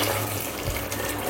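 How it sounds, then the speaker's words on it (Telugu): Heated water poured into a pot of raw jackfruit biryani being cooked, giving a steady, close splashing rush that runs through the whole moment without a break. "ఆ వాటర్ ఇందులో వేసుకుందాం"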